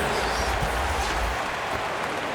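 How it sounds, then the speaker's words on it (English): Audience applause for the Florida Gators dancers at a televised PBA Philippine Cup basketball game, a dense, steady wash of clapping and crowd noise filling the whole moment, loud and continuous. "Let's give them a round of applause for Florida Gators dancers."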